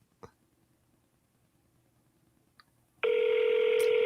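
A telephone rings on a call to a US senator's office in Washington, DC; after a few faint clicks, a loud steady ring tone starts abruptly and sustains alone until the end.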